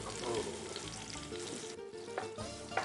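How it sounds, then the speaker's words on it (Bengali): Chopped onions fry in hot oil while cooking Mughlai chicken, a steady loud sizzle with crackling and stirring scrapes throughout, no talking. "আমরা পেঁয়াজটা কেটে, যেহেতু আমাদের তেলটা গরম হয়ে গেছে, ডাইরেক্ট তেলে দিয়ে দেব।"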